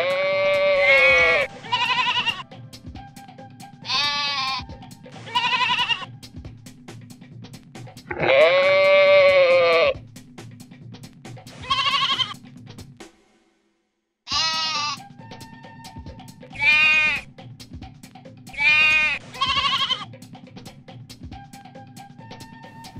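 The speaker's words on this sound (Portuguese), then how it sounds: "Ovelha." Sheep bleat repeatedly in loud, wavering calls, separated by short pauses over a steady low background hum, with a brief silent gap midway.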